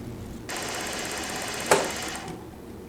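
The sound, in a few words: Juki DDL 8700 industrial sewing machine winding a bobbin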